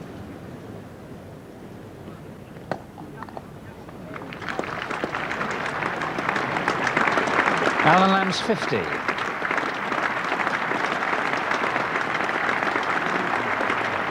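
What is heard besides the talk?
cricket crowd applause at Lord's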